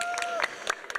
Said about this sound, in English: And yes, round of applause. I've got a button for that as well.